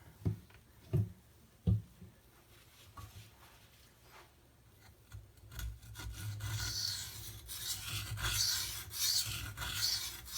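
A Spyderco Para 3 knife blade rasps across a coarse Venev sharpening stone, a few isolated scrapes giving way to continuous, repeated strokes that grow louder and brighter, close and alone.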